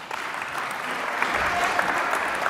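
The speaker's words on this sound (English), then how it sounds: "Give an applause." A conference audience gives a brief round of steady applause for a quiz winner during a Citrix Synergy session, many hands clapping evenly with a faint voice underneath.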